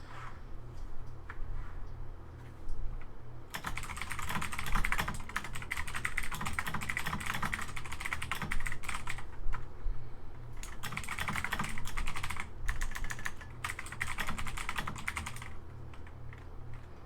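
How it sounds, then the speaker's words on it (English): A loud computer keyboard clatters with rapid bursts of typing, near and crisp, pausing briefly between runs of keystrokes, with no voices. "I just have a really loud keyboard."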